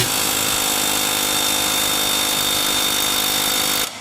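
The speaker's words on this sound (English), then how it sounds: "Let me try air hammering this off." A pneumatic air hammer works at a rusted bolt and washer while a drive belt is being replaced on an MTD variable-speed riding mower. It makes a loud, steady, continuous rattling hammer for about four seconds, then cuts off abruptly.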